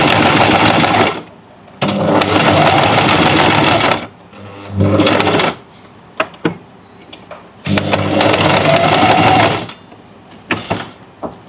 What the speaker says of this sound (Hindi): सबसे पहले हम इसको जैसे कच्चा कर रहे थे कि इसको हम चिपका लेते हैं इसमें सिलाई से